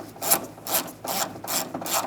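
Close ratchet clicks as an 8mm socket turns bolts on the front exterior door handle of a Dodge Durango, in four or five rhythmic bursts of rapid ratcheting, each separated by a short pause.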